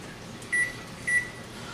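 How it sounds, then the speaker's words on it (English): A kitchen timer is set for a risotto primavera, giving two short, clear electronic beeps about half a second apart over a quiet kitchen hum. "So we'll set our timer for 10."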